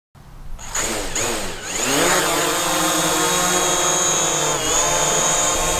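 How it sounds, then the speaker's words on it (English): A DJI Mavic drone fitted with low-noise propellers spins up and hovers close by, a loud steady whine with rising and falling motor pitch as it throttles, heard on its own without speech. "Now let's try the Mavic with the low noise propellers."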